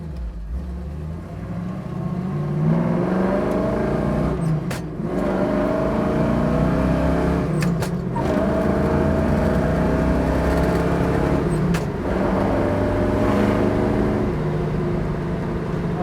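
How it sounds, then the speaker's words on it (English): A 1967 Chevrolet Camaro SS with a 350 engine accelerating through several gears, its deep, throaty exhaust droning loudly with distinct shift breaks at intervals, heard from inside the car without talk. "It's got a nice, deep, throaty exhaust sound."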